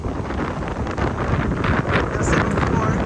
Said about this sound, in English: It's very windy right here.